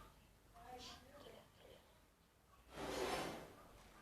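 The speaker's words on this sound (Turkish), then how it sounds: "Kapıyı kapattım." A door being shut in the Granny 3 horror video game, a short burst of noisy clatter heard once in the latter half, following a stretch of quiet talk.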